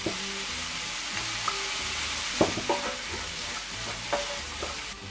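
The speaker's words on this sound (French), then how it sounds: "Je mets les petits pois." Peas tipped into a hot pan for vegetarian rissoles, sizzling steadily up close while a utensil stirs and taps against the pan several times.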